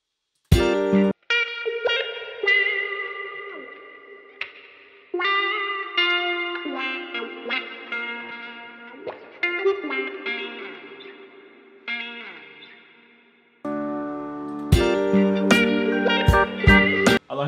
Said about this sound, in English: This is the guitar melody I came up with.